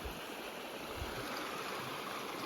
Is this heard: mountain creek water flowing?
yes